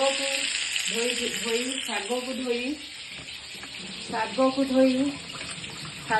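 Chopped garlic fries in a pan for an Odia saga muga dish, a steady close sizzle running beneath a person speaking in bursts, with a few brief louder crackles near the end.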